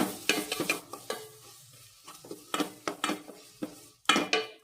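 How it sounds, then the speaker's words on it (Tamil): Onions sautéing with ginger and garlic paste in a pan, a spoon scraping and stirring in quick bursts of clatter over a light sizzle, close and uneven, with short pauses between strokes. "ஒரு தேக்கரண்டி பூண்டு ஒரு தேக்கரண்டி இஞ்சி சேர்த்துட்டு இதோட பச்சை வாசனை போகிற வரை நல்லா வதக்கி விட்டு எடுத்துக்கணும்"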